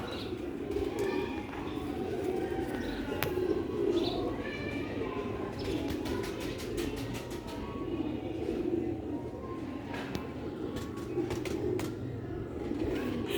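Pigeons coo in soft, repeated low calls close by, with scattered chirps and flutters over a steady background hum, while someone talks over them throughout.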